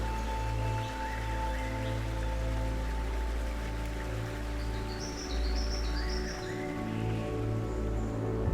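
Heavy wet-season rain falling in a rainforest, a steady broadband wash with low rumbling, while faint bird calls rise above it now and then.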